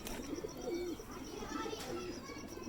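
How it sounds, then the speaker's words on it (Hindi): Teddy pigeons in a loft coo softly, a low repeated throaty warble rising and falling a couple of times, faint and close, with light background noise. "ये राणा भाई के टैडी कबूतर हैं माशाल्लाह सारे"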